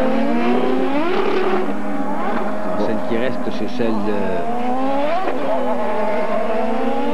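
IndyCar race cars on the Edmonton street circuit screaming past one after another, sharp rising and falling engine whines as each car sweeps by near and then fades, with a commentator speaking French over the top.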